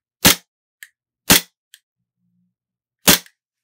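A WE F226 airsoft pistol fires three sharp, loud cracking shots about a second or more apart, each followed by a faint short click, with no talking.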